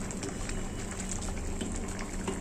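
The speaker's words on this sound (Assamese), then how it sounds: "দাইল হৈ গ'ল চব উতলিয়াই ধুনীয়া সিজিলে।" A pot of mati dal lentils boils hard, giving a continuous close bubbling and gurgle with scattered pops, unbroken by speech.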